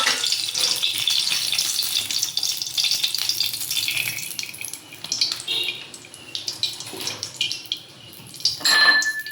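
Oil heating in a hot kadhai in a Konkan village kitchen, a close sizzling hiss that swells and fades, broken by clanks of utensils against the pan near the end.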